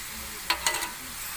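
Pork pakbet ingredients being sautéed in a pan, with a few brief scraping stir strokes over a low steady sizzle, close and fairly quiet, no talking.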